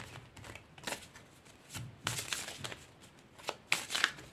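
Tarot cards being drawn and shuffled, crisp papery riffles and slides in several bursts, close and fairly quiet with no talking.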